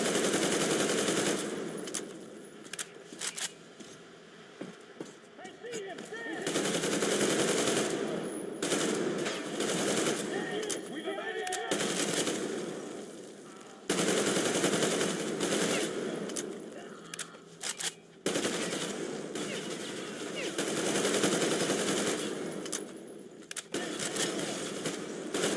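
Sustained automatic gunfire bursts in the video game Metro Exodus, loud and dense with brief pauses between volleys over a continuous mix of game noise.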